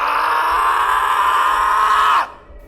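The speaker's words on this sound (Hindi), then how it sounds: "अचानक सियाराम दर्द से चीखता है।" A man screams in pain, one long, loud, strained cry held steady for about two seconds before cutting off sharply, a horror story sound effect.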